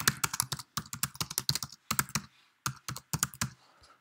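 Typing on a computer keyboard, with rapid bursts of close, crisp key clicks broken by short pauses, entering a name into a text box, with no talk over it.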